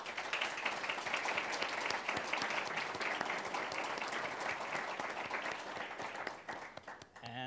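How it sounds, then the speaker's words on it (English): An audience at an academic conference on EU foreign policy gives the panelists a round of applause: steady, continuous clapping heard from a distance, fairly quiet overall, tapering off toward the end. "I'd like to invite you to give a round of applause to all the panelists."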